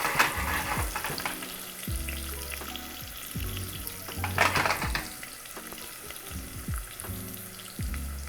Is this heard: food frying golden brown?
yes